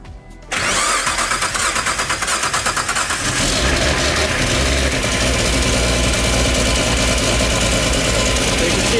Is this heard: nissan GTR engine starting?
yes